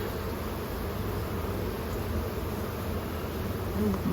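A dense, steady hum of many honey bees buzzing together in a hive, close and continuous, with no speech.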